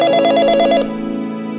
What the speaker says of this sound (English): Why isn't anybody picking up the phone?